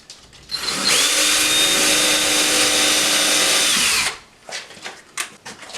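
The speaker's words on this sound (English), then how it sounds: "I'll do another pilot hole." A power drill bores a pilot hole for a screw while a hand towel ring is installed, a close, loud whining spin lasting about three seconds with a steady pitch, stopping abruptly, followed by faint handling noises.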